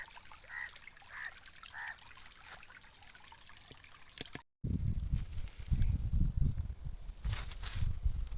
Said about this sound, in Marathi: आणि इथं हे बघा, पाण्याची उकळी किती मोठी आहेत